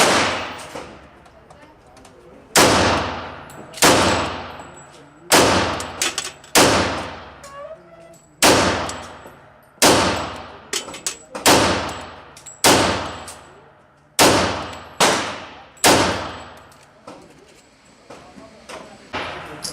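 Pistol shots from a Remington R1 1911 loaded with a 10-round magazine ring out as about a dozen sharp, loud cracks. They come singly or in quick pairs at uneven intervals, each with a short decaying tail, with no talking.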